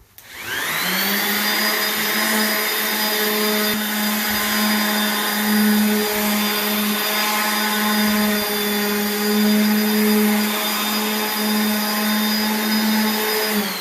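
A power sander sanding an epoxy countertop whines steadily and loudly from start to finish, a constant high-pitched motor drone with no talking.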